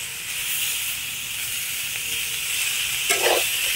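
Seeded tomatoes cooking in a pan with no oil give a steady, fairly loud hiss and sizzle close by, with a brief louder burst near the end and no voices.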